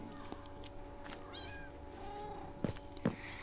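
A small cat in the Minecraft video game meows a couple of times, moderately loud over a quiet game background with a few soft clicks.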